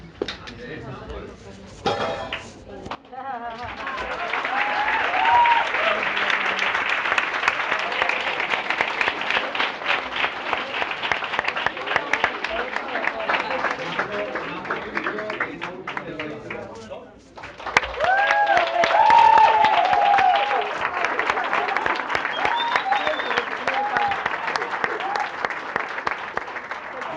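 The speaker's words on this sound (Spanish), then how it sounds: "Otro aplauso para ellos." An audience at a panel talk on queer art as resistance bursts into sustained, dense applause, fading briefly before a second long round of clapping swells up again.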